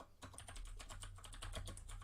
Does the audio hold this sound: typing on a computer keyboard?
yes